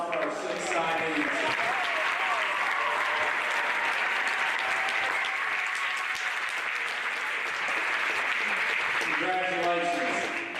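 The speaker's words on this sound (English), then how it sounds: "How about one more big round of applause for our 6 signees?" Sustained round of applause from a crowd honoring six signees at a National Signing Day event, dense steady clapping lasting the whole stretch, with a voice speaking over it at the start and end.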